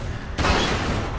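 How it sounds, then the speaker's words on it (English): A sudden loud blast from a shotgun fired at chains in The Walking Dead video game, a single sharp boom that cuts in abruptly and rumbles on briefly, no voices. "Shoot the chains, man!"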